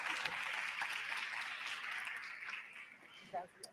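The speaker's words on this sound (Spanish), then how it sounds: "Un fuerte aplauso, por favor." Audience applause at a family program results event, a faint, steady patter of clapping that thins out toward the end, with a brief louder sound near the close.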